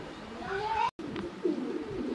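European Black Lahori pigeons give soft drawn-out coos, two gliding calls split by a brief dropout, faint against a steady background hum.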